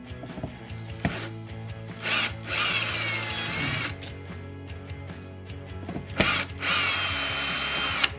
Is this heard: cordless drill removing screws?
yes